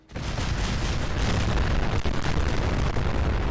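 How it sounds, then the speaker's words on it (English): A huge explosion in Fallout 4 as a factory packed with cars blows up, a loud sustained roaring blast with rumbling debris for several seconds, no speech. "One gigantic explosion later, and I got a notification telling me every raider in the factory was now dead"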